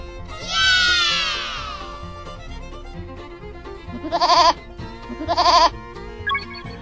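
A farm sheep bleats several times, with one long wavering call followed by two shorter, strong bleats, over soft background music.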